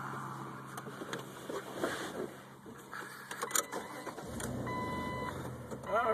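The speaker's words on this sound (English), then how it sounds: "So let's take a ride in my Jeep here" Cabin of a moving Jeep, with steady road and engine rumble and brief whirring mechanical sounds like a power window, while a voice talks over part of it.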